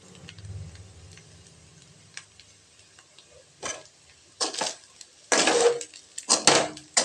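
Carrot rice is stirred in a pan, making scattered light scrapes and clinks that grow louder and more frequent toward the end, with no talking.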